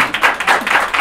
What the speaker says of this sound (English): Let's hear a round of applause for Howie.